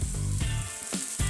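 Sliced onions with salt and turmeric sizzle in a hot pan for cabbage and chana dal, a close continuous frying hiss punctuated by a few stirring scrapes.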